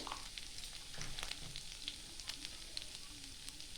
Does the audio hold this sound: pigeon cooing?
no